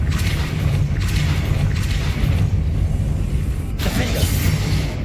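A Depulso spell impact booms in Hogwarts Legacy, a loud, dense burst of game sound effects rolling through several seconds, with a sharp second impact near the end.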